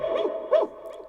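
Dog barking sound effect from a JBL Partybox 310 party speaker: a few short, yelping barks and whimpers, fairly quiet, with no talking over them.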